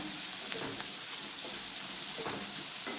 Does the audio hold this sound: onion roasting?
yes